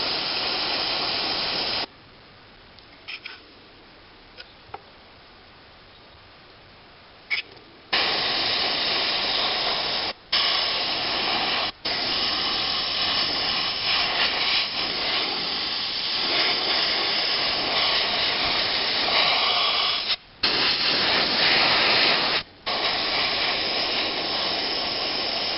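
An airbrush sprays paint onto a scale model's cockpit interior, a steady close hiss running in long bursts, broken by a quieter pause early on and a few brief cutoffs.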